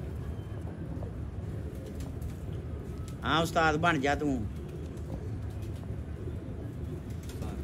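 Pigeons give a short burst of rolling coos midway, close and clear above a low background murmur, while people talk nearby.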